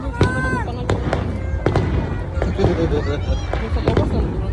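Sinulog fireworks display at Ayala Center Cebu, with repeated loud bangs and crackling bursts fired in quick succession, along with whistling rising shells, over a steady crowd hubbub.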